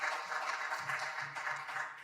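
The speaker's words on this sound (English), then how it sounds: "Let's have a little round of applause for all of our filmmakers and Andy joining us tonight" An audience at a film festival screening applauds the filmmakers, a soft, steady patter of many hands clapping that stays fairly faint and even throughout.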